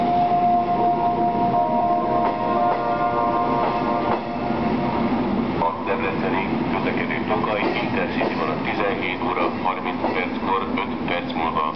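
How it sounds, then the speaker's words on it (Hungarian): A GYSEV Taurus train from Zalaegerszeg rumbles and clatters into Budapest Keleti station, loud and close, while a Hungarian public announcement voice speaks over the rail noise. "Gyors vonat érkezik Zalaegerszeg, Szombathely, sokkal előbb a 11. vágányra."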